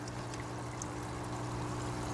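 Water drains steadily out of a hot tub aquaponics system, a faint, even pouring and trickling flow with a low hum beneath it and no voices.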